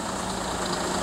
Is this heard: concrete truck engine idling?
yes